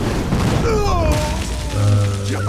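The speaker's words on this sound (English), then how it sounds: "So we have 12 damage with our fireballs. So we just shoot this off." A fireball spell fires in the Hearthstone digital card game: short swooping, whooshing tones end in a low boom, loud and close.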